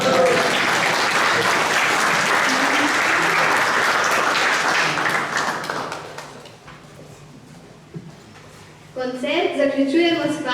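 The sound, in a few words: concert audience applauding a choir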